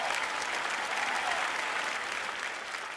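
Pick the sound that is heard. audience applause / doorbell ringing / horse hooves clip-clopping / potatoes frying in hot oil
audience applause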